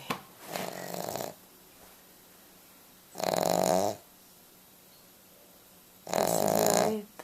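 A Cavalier King Charles spaniel snores in three loud, nasal, rasping breaths spaced a few seconds apart, each about a second long, with quiet gaps between and no talking.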